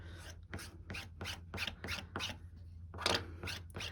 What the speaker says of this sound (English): I'm kind of working this medium into the fibers of the fabric so it's like fully penetrated